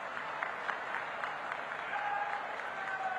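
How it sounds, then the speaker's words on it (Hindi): Crowd applause at a political rally in Uttarakhand, a sustained wash of clapping from a large audience under a tent, heard from a distance and fairly faint. "एक बार जोर से पुष्कर सिंह के लिए ताली बजाकर उनका स्वागत करिए।"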